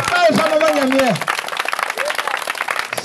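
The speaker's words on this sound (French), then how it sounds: "Acclamons très fort le Seigneur Jésus-Christ" A crowd at an outdoor night evangelism gathering in a rural encampment breaks into applause and cheering, with a loud voice calling out over the clapping.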